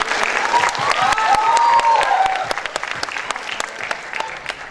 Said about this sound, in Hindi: अरे तालियां यार.